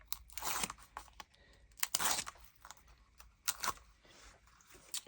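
Foam tape is handled and applied to the back of a handmade card, giving quiet, close tearing and crinkling sounds in three main bursts with small rustles in between.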